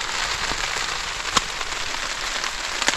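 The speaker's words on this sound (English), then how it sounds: "If there comes a small pause in this rain" Heavy winter rain drums on a tent close by, a dense steady patter broken by a few sharper drop impacts.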